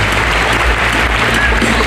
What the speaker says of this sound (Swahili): Tumpigieni makofi.